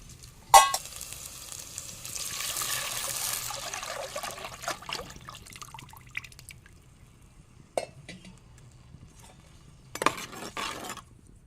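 Ground masala paste hits a hot pan with a sudden sharp burst, then settles into a fading sputter and bubbling sizzle, with a couple of later clattering splashes.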